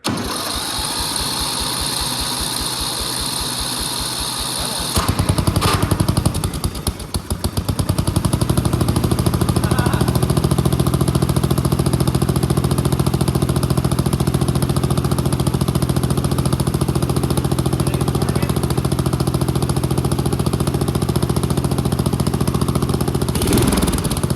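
A Jeep engine cranks with rapid rhythmic pulses, catches and then runs steadily for a long stretch, loud and close, without any talk.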